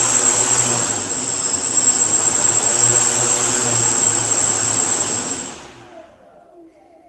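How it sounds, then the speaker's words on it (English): Prototype drone with spinning propellers flying, a loud steady whirring buzz with a high whine that holds for about five seconds before cutting off to near silence. "Drone prototype."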